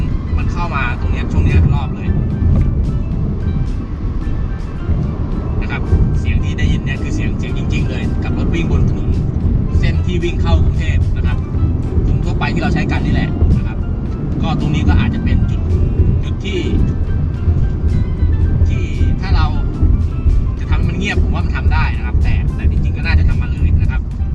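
Steady low road rumble fills the rear cabin near the tailgate of a Honda City Hatchback 1.0 VTEC Turbo, loud and continuous with faint higher rattles, while someone talks over it.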